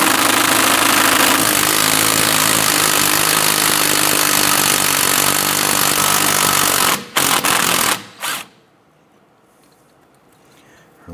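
A loud power tool, likely an impact gun, hammers steadily at a control arm bolt on a 2006-2013 Chevrolet Impala for about seven seconds, then cuts out in a few short bursts before quiet.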